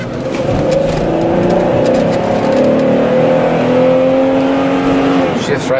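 A 2003 Pontiac Montana minivan accelerates on a test drive, its engine note rising steadily and loud from inside the cabin as the transmission shifts, with no talk heard over it.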